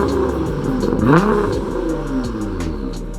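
A Nissan GT-R with a Linney drag exhaust revs up hard close by, its engine note rising and falling through a rough, roaring sweep, with sharp pops and bangs crackling on the off-throttle.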